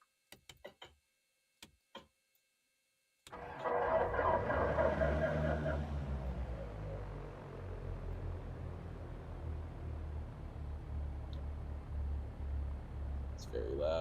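An aircraft piston engine in a flight simulator game starts with a magneto start after a few faint clicks, then catches into a loud, steady droning rumble that runs on without a break.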